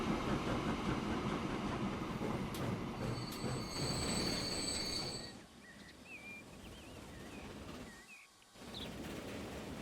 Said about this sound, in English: Sorry, train, you have to stop here.